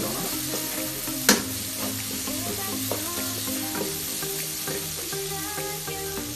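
Chicken 65 sizzles and fries in a pan while it is stirred, a steady close hiss with scraping and light clinks and one sharp knock early on.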